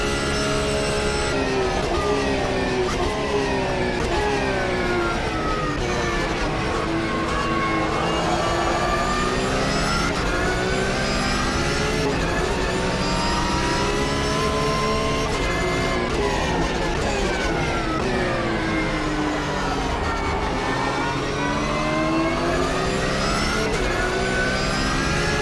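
A GT3 race car engine in the Automobilista 2 racing game, loud and continuous throughout, its pitch rising and falling through gear changes and revs with no talk over it.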